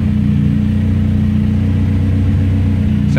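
A BMW E30 with an M42 engine running on Megasquirt idles steadily, giving a close, loud, even rumble with a constant low hum and no talk.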